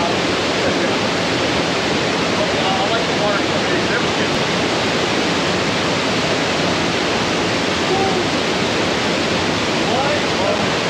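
A waterfall at Granite Hot Springs in Wyoming roars in a dense, unbroken hiss, loud and close throughout with no other sounds standing out.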